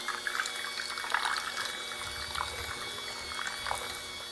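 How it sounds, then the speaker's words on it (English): Beaten eggs pouring into creamed ricotta and sugar in a bowl for a pastiera filling, a soft wet glugging and dribbling that lasts several seconds, faint and close in a quiet kitchen. "now the eggs go in"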